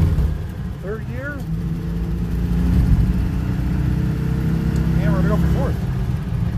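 A Citroen 2CV engine pulls steadily in third gear on the road with a constant buzzing drone, and a voice briefly speaks over it twice.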